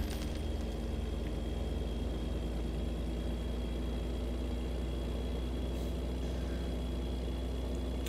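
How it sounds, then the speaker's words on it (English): A video game car engine drones steadily with a low, continuous rumble and a faint high whine, holding at an even level throughout with no talking over it. "Stop making weird engine-y noises, engine."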